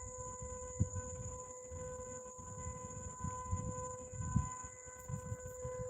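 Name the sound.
dam warning siren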